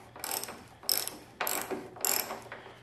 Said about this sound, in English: We're going to loosen up the top of the fork while it's still in the bike.